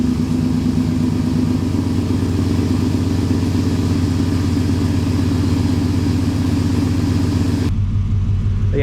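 A 1997 Chevy K1500 V8 idles with a deep, throaty burble through a dual-in, dual-out Borla XS Pro muffler and dual rear exits, a steady close rumble that drops to a lower tone near the end.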